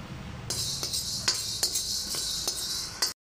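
Black peppercorns dry-roasting in a pan, a bright rattling hiss with several sharp clinks of a utensil against the metal, close and brief with no voices, ending abruptly.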